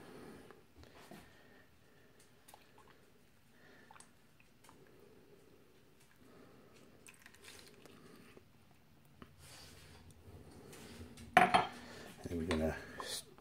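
Limoncello cream mixture being mixed with a utensil, giving scattered clinks and scrapes against a bowl that build into a louder clattering burst near the end, with faint background sounds throughout.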